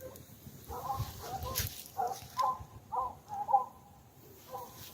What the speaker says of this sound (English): The dog's going crazy.